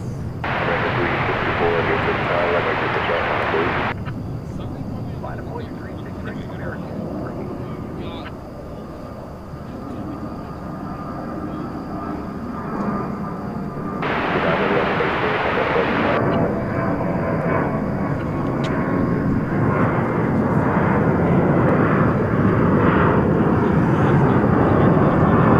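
A United Boeing 737-800 takes off at night from Dallas Fort Worth Airport, bound for San Francisco, with a broad engine roar that dips midway and then swells louder toward the end, while a voice talks over parts of it.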